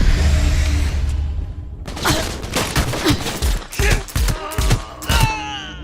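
Gunfire in the video game Cyberpunk 2077 breaks out as a burst of sharp, loud shots in quick clusters, with thuds and groaning cries mixed in, following a quieter stretch of low game ambience.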